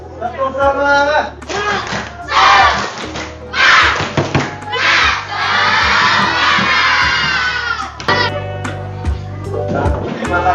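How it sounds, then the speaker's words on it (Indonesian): A group of primary schoolchildren at an elementary school in Serang loudly shouting a rhythmic spirit clap chant together, crowd voices and claps rising in bursts, with an adult voice leading. "Tepuk semangat."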